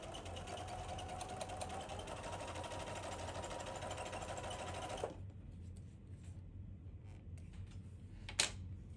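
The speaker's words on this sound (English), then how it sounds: "I just want to do a couple of back stitches" A sewing machine runs in a steady rapid whir for about five seconds while back stitching a cross stitch portfolio bag, then stops, leaving faint handling clicks.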